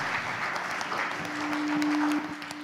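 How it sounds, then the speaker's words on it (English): An audience at a fan event claps in a dense, steady burst of applause close by, with a faint sustained tone running underneath. "Can we all give Javen another round of applause?"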